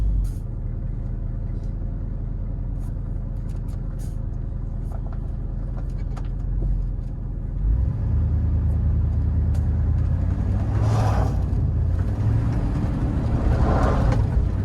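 A 1980 Chevrolet Bel Air wagon engine running while driving, a steady low rumble heard from inside that swells and grows louder as the car pulls under load, with no talk.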